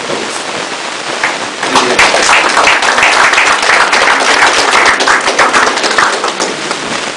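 Audience applause at a Bolivian event, a loud, dense patter of many hands that swells after a quieter start and keeps up steadily to the end, with no speech over it.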